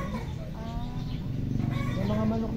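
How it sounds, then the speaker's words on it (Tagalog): Chickens on a small farm clucking steadily and close, a continuous low murmur of fowl with a faint voice nearby. "Yung mga manok niya."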